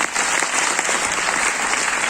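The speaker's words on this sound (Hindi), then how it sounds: "इसके लिए जोरदार तालियां होनी चाहिए।" An audience claps loudly and steadily at a business presentation, a dense continuous applause with no pauses.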